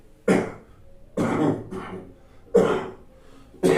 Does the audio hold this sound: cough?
yes